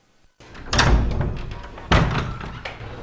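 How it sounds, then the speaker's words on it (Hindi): A house door opens after a quiet moment with a sharp, close wooden thunk, then a second heavy knock a second later and a fainter tap, each dying away quickly. "रवि मैं हूँ, दरवाजा खोलो।"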